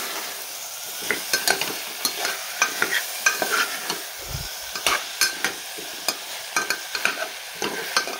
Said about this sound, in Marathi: आणि एकदा बटाटा पण छान परतून घेऊया।